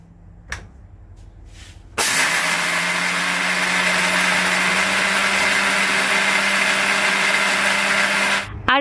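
Roasted maize being ground into flour in a household electric mixer grinder, a few light knocks and then the motor kicking in with a loud, steady whirring roar that runs to a sudden stop near the end.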